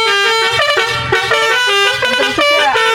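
A loud Basuri musical car horn heard from inside the car, with its upper trumpet playing a continuous melodic tune of rising and falling tones, steady and strong throughout.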